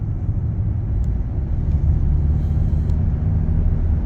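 A 2027 Kia Telluride Hybrid SUV climbing a mountain road: a steady, deep engine and road rumble heard from inside the cabin, slowly swelling a little as it accelerates.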